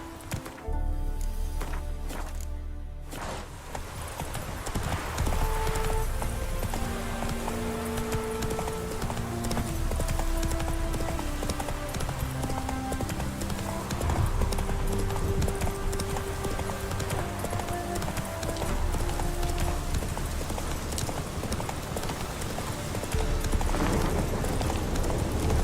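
Roach, the horse in The Witcher 3, gallops in a steady rhythmic clip-clop of hooves that runs through the whole stretch. A short burst of other game sound comes at the start.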